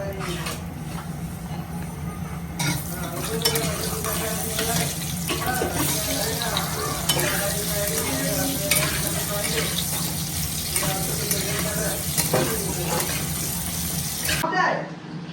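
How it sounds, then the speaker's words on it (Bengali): Potato pieces fry in hot oil for a Bengali bhindi, potato and prawn curry, giving a steady close sizzle broken by clinks and stirring, with a brief quieter stretch at the very end. "এই আলুগুলো আগে ভেজে নেব"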